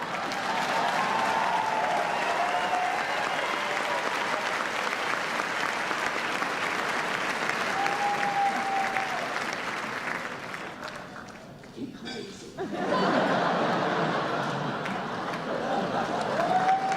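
Sustained applause from a large audience, dense and steady, briefly dipping before swelling again; a voice rises through the clapping at moments.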